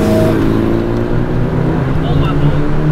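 A JDM Nissan Silvia S13's engine drones steadily from inside the cabin while driving, a loud, sustained mid-range hum under road noise.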